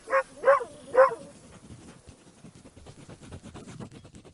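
A dog in a radio play barks three times in quick succession, loud and close, then trails off into soft whimpers and yips under quiet background rustle.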